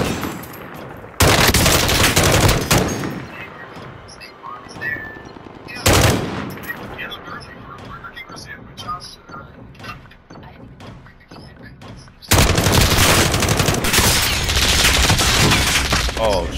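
Video game gunfire in Call of Duty Warzone: three loud bursts of automatic fire separated by quieter stretches of game ambience and distant shots, with a voice talking faintly in between.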